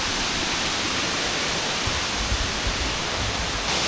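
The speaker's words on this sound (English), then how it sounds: "And guess what? Another waterfall!" Steady broadband roar of a waterfall in tropical Queensland, Australia, continuous and dense with no pauses, filling the whole stretch without talk.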